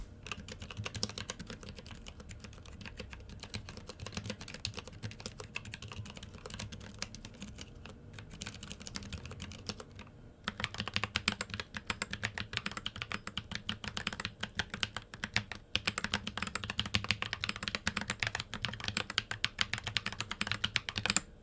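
Steady, fairly quiet typing on a keyboard with wooden keycaps, a warm stream of soft clicks that picks up pace and density midway through, with no voices.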